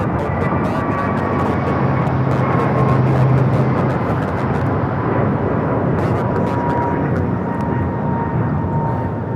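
An American Airlines Airbus A321neo takes off at Los Angeles International Airport, its jet engines giving a loud, steady broadband roar that swells briefly and holds for the full stretch, with a faint tonal whine above it.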